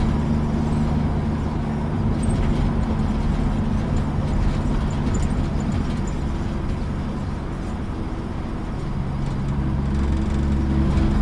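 A 1958 GMC Apache Fleetside pickup truck drives along, its engine a steady low rumble with road and cabin noise holding constant for the whole stretch, heard from inside, no talking.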